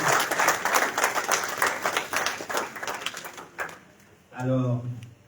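Applause at a university doctoral program launch ceremony: a crowd claps in irregular, rippling bursts for about four seconds, tapering off before a voice begins speaking.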